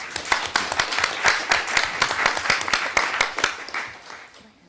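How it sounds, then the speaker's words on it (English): A crowd claps steadily for several seconds, dense and lively at first, then thinning and fading out toward the end. "let's just give a final round of clap to our distinguished panelists"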